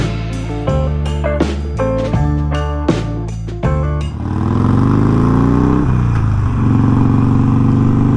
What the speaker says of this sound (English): we're back out on the Harley Sportster Iron 1200 on the beautiful streets of,